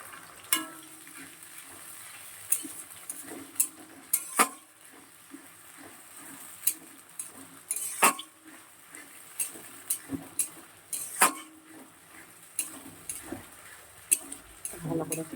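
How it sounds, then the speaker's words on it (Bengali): A spoon stirring onion, garlic, tomato, ginger and cumin paste in a frying pan gives a soft sizzle under a series of sharp scraping clicks and taps against the pan, irregular and close, with occasional speech. "ভালো করে কষিয়ে নেব।"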